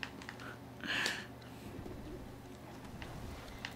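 A large monster in the video game Monster Hunter World gives a soft pigeon-like coo, one short call near the start over steady game ambience and low rumble.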